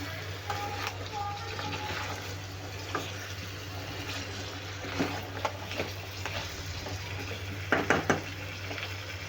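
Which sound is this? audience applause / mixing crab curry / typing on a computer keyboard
mixing crab curry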